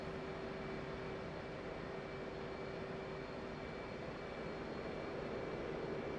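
An F/A-18 Hornet fighter jet in the DCS combat flight simulator gives a steady, dense engine roar that stays constant throughout, with no voices.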